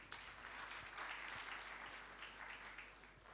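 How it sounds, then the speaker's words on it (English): An audience at a social performance forum applauds with a sustained patter of many hands clapping, fairly quiet and distant, steady for a few seconds with no talk over it. "let's give a round of applause to SLB."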